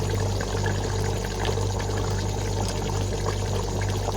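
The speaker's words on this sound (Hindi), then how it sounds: "और हम डाल देंगे लेमन जूस" Squeezed juice from four lemons pours into chicken biryani in a pot, a soft steady trickle set against a constant low hum, with no voices.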